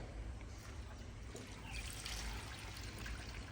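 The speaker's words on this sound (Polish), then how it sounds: "Wlewaj tą wodę." Water is poured into the engine of a BMW E46 330Ci with an M54B30 engine in a workshop after a cylinder head rebuild. It makes a steady, close trickling and splashing pour that runs throughout, with no talk.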